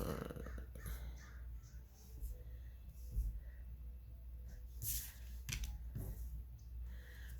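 A crow caws outdoors a few times, faint and distant, over a muffled, noisy background.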